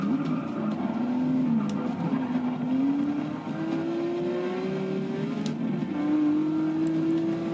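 Engine of a Porsche in Forza 6 holds a steady, climbing drone through gear shifts, with faint tire noise beneath. It stays loud and unbroken, and no one talks.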